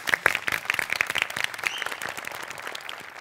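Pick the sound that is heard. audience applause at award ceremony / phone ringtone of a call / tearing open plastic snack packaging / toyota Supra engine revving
audience applause at award ceremony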